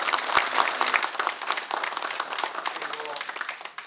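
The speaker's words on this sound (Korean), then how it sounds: "우리 한번 박수해 주시기 바랍니다." An audience at an academic seminar applauds a welcomed guest with brisk, full clapping that gradually thins out, and a voice begins talking near the end.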